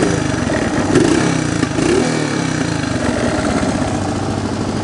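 Honda ATC 125M three-wheeler engine idling steadily after a knock repair, a continuous loud motorcycle-like putter with a slight rev swell partway through, no smoke or oil burning noted.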